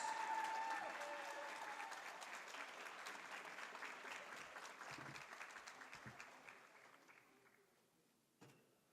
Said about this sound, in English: let's give one more round of applause for all 4 of Brevard College men's basketball senior class